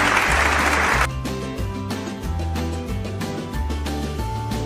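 Applause from a classroom group, a burst of brisk clapping over quiet background music, then the clapping stops and the music carries on alone.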